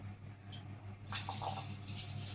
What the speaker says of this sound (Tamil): நல்ல தண்ணியில் கழுவினா கொஞ்சம் நல்லாயிருக்கும், அரிசி வந்து உடையாமல்.